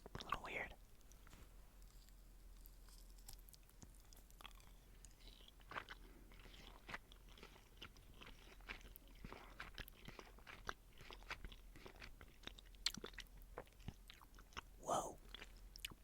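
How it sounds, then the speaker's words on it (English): Soft, fluffy Squashies marshmallow candies are chewed close to the mic in quiet, sticky, squishy bites with scattered crunchy clicks, faint and steady, with whispering now and then. "I should have said that I was about to chew, but I was very intrigued by the texture."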